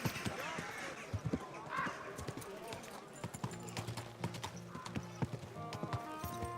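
Horse hooves clip-clop in the video game Kingdom Come: Deliverance 2, a quiet, irregular run of sharp hoof knocks spread across several seconds, joined by faint game ambience and soft tonal sounds toward the end.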